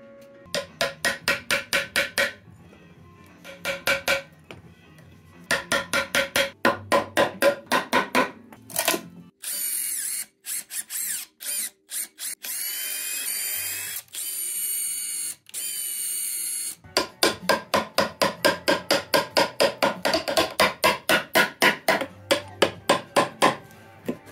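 A wooden pillar having a mortise carved out by hand: long runs of rapid, regular, sharp taps close by, broken by pauses and a stretch of harsher scraping in the middle, no voices.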